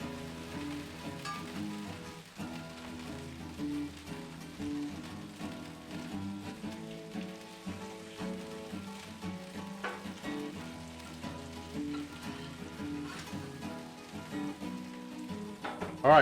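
Peacock eggs frying on a Blackstone griddle, a soft continuous sizzle and crackle with scattered pops and a faint scrape, quiet and close throughout.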